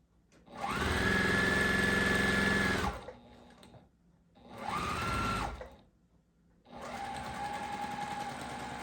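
A sewing machine stitches a quilt block in three close, loud bursts of steady whirring, each running a couple of seconds with short quiet pauses between them.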